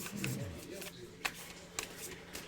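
A deck of animal cards is shuffled close by, a soft riffling rub with a few crisp card flicks, quiet and unaccompanied.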